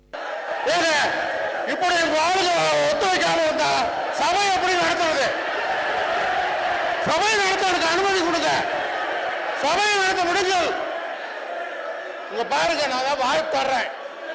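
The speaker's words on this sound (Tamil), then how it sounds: "பேரவையில் சுமார் இருபத்தி ஐந்து நிமிடம் கூச்சல் குழப்பம் நிலவியது" Raised voices shout and talk over one another in the Tamil Nadu legislative assembly, an ongoing uproar of loud, overlapping speech in bursts that rarely pauses.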